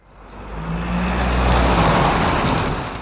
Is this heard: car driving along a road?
yes